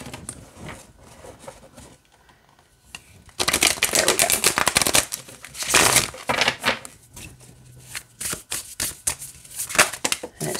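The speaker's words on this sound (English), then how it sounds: "Shuffles great this way too." Tarot cards riffle and slap together in bursts, with quieter rustling in between; crisp, close, and uneven in rhythm.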